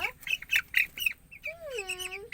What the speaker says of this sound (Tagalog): Ito po ang aking bebe ko.